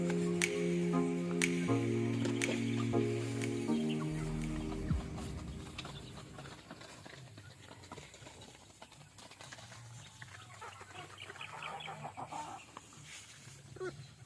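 White Dekalb chickens on a farm cluck and call intermittently at moderate distance, with a bright tonal melody playing loudly at first and then fading, leaving scattered clucks and rustling.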